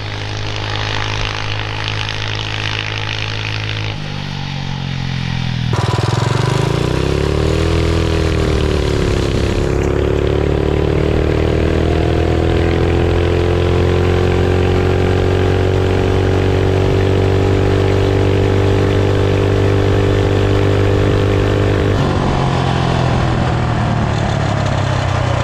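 A 420cc Mega Moto minibike engine runs loud and close for the full length, its steady drone rising and falling in pitch as the throttle changes, with no talk over it.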